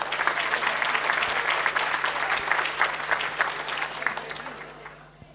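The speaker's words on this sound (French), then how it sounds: "Applaudissements pour lui." Clapping from a large audience at the Miss Tunisie 2013 beauty pageant final, a sustained burst of claps that stays loud, then thins and fades toward the end.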